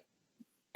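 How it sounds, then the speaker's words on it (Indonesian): A single short, sharp cough bursts out at the very end after near silence, close to the microphone. "saya batuk-batuk terus sih"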